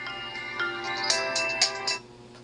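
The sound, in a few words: Infinix cellphone startup sound, turning on by itself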